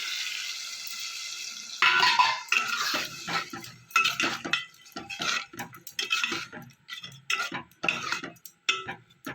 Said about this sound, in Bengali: সামান্য একটু জল দিয়ে কষিয়ে নেবো ভালো করে।